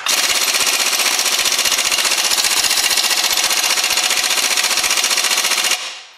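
An air impact gun hammers continuously at a nut and bolt on a Land Rover Freelander drive shaft, a loud, rapid rattling burst lasting about six seconds before cutting off, with no talking.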